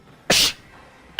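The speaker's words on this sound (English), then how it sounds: "I just sneezed all over my mic" A single loud, close sneeze blasts straight into a microphone, a sharp burst followed by a quiet gap and the start of another noisy burst at the very end.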